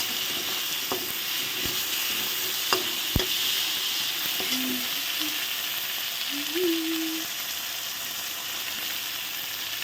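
Tomato sizzles and fries in hot oil with spice tempering for a cauliflower curry, a steady soft hiss with a few sharp clinks and brief scraping sounds from stirring, no talk.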